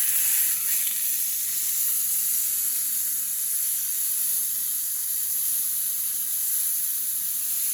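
Steak frying in a pan, a steady, loud broadband sizzle that holds evenly throughout with no talk.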